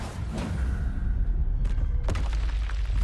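A Confringo spell blasts in Hogwarts Legacy combat with booming, thudding impacts over a constant low rumble, with two sharper hits near the end.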